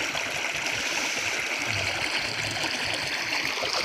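Fresh water gushes steadily from a tube well outlet, a continuous close-up rush and splash with no pauses and no voices.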